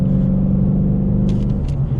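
A 2019 Ford Mustang GT rumbles steadily through a tight switchback, its deep V8 drone close and loud, with brief higher-pitched tire or engine bursts near the end.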